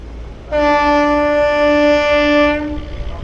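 A narrow gauge heritage passenger train on the Bilimora–Waghai line sounds one loud, steady horn blast of about two seconds as it pulls away, with a low rumble before and after.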